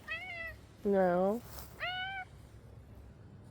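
A cat meows three times up close, with one longer, louder, rising-falling meow in the middle, over a quiet indoor background.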